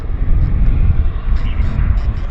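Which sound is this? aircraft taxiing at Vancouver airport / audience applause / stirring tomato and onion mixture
aircraft taxiing at Vancouver airport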